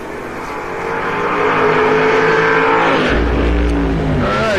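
Drag racing Camaro with a 406 small-block GM engine against a big-block Ford at a raceway, roaring loudly off the starting line in a continuous rising, heavily distorted engine blare.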